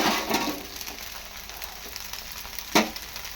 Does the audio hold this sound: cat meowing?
no